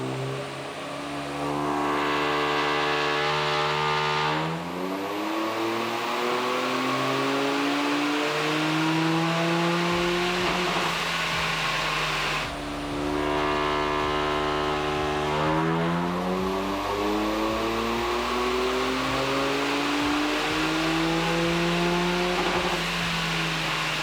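A Toyota GR Yaris with an aftermarket dump pipe and front pipe exhaust revs up hard through the gears with a loud, raspy exhaust, easing off and then pulling again in repeated climbing drag runs.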